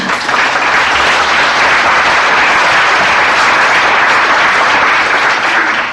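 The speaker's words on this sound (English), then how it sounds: "You can applaud him." Loud, sustained applause from a large audience fills the whole stretch, dense and even without letting up.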